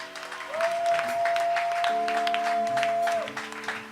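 A church congregation applauds and cheers in praise during a worship service, a steady wash of clapping with a sustained organ or keyboard tone beneath it, swelling and fading over a few seconds.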